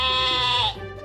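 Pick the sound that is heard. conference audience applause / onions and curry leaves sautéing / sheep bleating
sheep bleating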